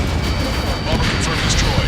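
A bomber blows up in the Ace Combat 7 flight game, a loud burst of explosive rumble and crackling debris that churns on for under two seconds.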